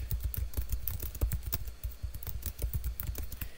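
Rapid computer keyboard typing as code is entered during a programming lecture, a steady run of crisp, close key clicks with small pauses, no voice over it.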